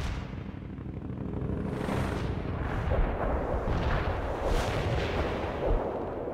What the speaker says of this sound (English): Artillery strike on the way